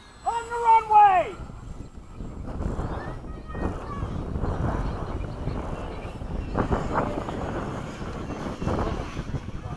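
A radio-controlled model jet, flown with other RC jets at Bayside, sweeps past in a low pass from the right, its engine rising and fading amid wind noise while people talk nearby.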